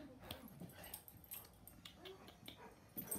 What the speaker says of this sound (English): this is my dog, Jake.